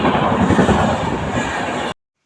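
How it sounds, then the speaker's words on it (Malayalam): A train rushing past at high speed with raising dust, loud and close, a dense continuous roar of wheels and rail clatter that cuts off abruptly near the end. "പിന്നെ അതിൻ്റെ ഇടയിൽ ഒരു ട്രെയിൻ വന്നു"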